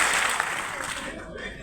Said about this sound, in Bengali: তাহলে একবার হাততালি বাজান।